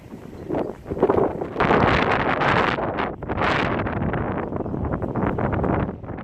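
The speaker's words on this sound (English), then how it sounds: "I'm sorry about the wind and the car noise" Steady gusty wind roars across the microphone at a Phillips 66 gas station, with a broad rushing swell of a car passing nearby; no talking.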